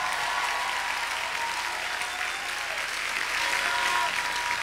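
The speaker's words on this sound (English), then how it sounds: "if you're going to clap, really give a big hand clap in Jesus' name." A church congregation claps loudly and continuously, a dense, sustained wash of applause with no pauses, filling the space throughout.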